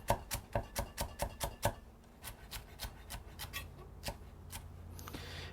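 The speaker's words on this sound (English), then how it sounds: "So that's one way of chopping celery." A knife chops celery rapidly on a cutting board, about ten quick crisp strikes, then slower scattered cuts and scraping, close and alone.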